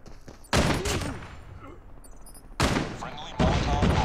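Call of Duty Mobile multiplayer gunfire comes in two sharp, loud volleys of shots separated by a quieter gap, with softer background game noise in between.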